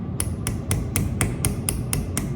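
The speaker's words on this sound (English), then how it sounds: "So I just want to start with some chasing tools and my chasing hammer," A chasing hammer striking chasing tools on a metal vessel: nine evenly spaced, sharp metallic taps in a steady rhythm, close and crisp over a low background rumble, without talking.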